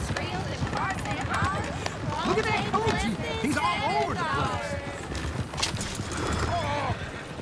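Horse hooves clip-clop at a steady gallop with occasional whinnies in Red Dead Redemption 2, while people talk over the rhythmic hoofbeats throughout.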